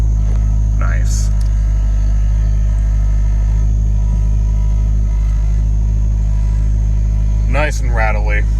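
A rattly car engine with a 5-speed manual and about 229,000 miles idles just after a cold start, a loud steady low rumble throughout, with someone talking briefly at the start and end.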